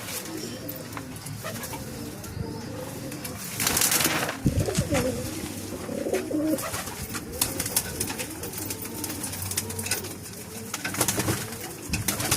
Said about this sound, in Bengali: এটা ধাড়ি পায়রা,